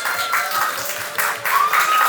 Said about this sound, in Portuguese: Palmas aí pra vocês.